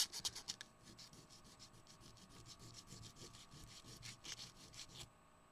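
Hand sanding a BlackBerry home button, scrubbing back and forth into its corners, gives a steady close-up raspy rubbing with quick repeated strokes that ends abruptly near the close.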